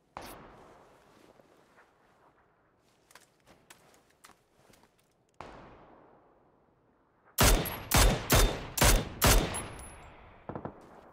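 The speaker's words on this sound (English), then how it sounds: "Someone's shooting at me." Gunfire in PUBG Battlegrounds: scattered faint distant shots and footsteps at first, then a loud close burst of about six rapid shots in quick succession, followed by a few lighter trailing cracks.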